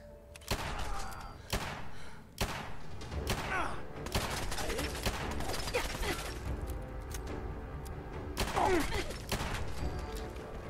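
Gunfire in Fallout 4 VR comes in a series of loud, sharp shots with mechanical clatter and thuds between them, spread across several seconds.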